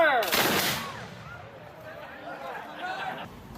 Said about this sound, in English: Cock your firelocks. Present.